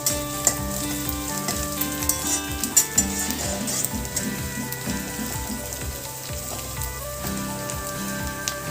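Onions frying in a pan for a fenugreek recipe, a continuous crackling sizzle with occasional clinks of a spatula stirring, steady and close, no voices.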